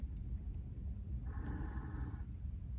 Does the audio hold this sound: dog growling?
yes